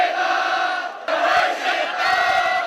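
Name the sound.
cheering of students on Seoul National University campus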